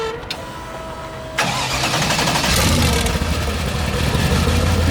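A twin-turbo Mercedes E55 AMG engine in a home-built track kart cranks and fires. A faint whine is followed by a sudden catch into a steady, rumbling idle that holds close and loud. Voices sit faintly beneath it.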